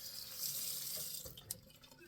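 A razor is rinsed under a running bathroom tap, giving a short close burst of hissing water into the sink that tapers off with a couple of light knocks, no talking.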